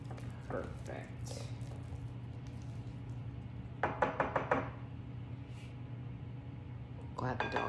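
Knocking in a home kitchen while hand pies are being made: a quick burst of four or five sharp raps near the middle, with a few more taps at the end, over a steady background hum.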